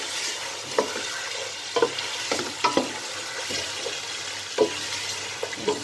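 Mutton fries in oil in a pot as pulao is made, a steady hiss with the scrape and clink of a spoon stirring it every second or so. The sounds are close, with no talking.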